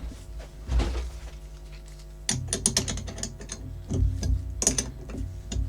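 A screw is undone on a Relum Tornado with a series of close, sharp metallic clicks and ratcheting scrapes, with irregular bursts of tool noise throughout.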